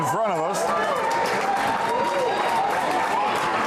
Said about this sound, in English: A lot of noise here from the Hudson crowd,